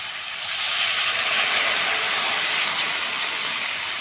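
Water is poured into a hot pan of frying fish curry with spices and tomato, setting off a loud, steady sizzling hiss that swells in the first half-second and stays strong throughout.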